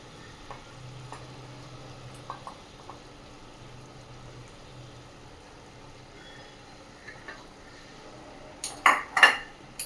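Fresh grated coconut stirred into cooked vegetables in a pan, soft scraping and quiet stirring at first, then a few sharp metallic clinks of a spoon against the pan near the end, close and mostly faint, no talking.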